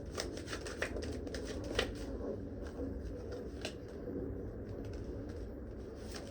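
Tarot cards being shuffled by hand, a soft continuous riffling and flicking heard up close and fairly quiet over a low background hum.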